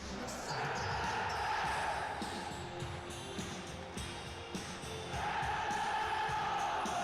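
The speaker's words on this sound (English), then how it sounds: "Listen to the crowd. Take it away, Rangers faithful." A dense, steady roar of a large stadium crowd in a football video game career mode, Rangers home fans in an Old Firm match, swelling louder toward the end, with broadband noise and faint chanting throughout.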